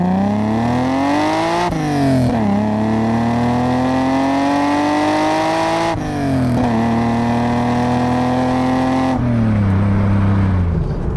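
A Toyota Supra engine pulling hard under acceleration, loud and close, revving up through the gears with three sharp shift breaks and a strong rising drone between them, no voices.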